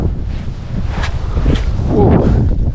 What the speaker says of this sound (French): Un peu de vent là.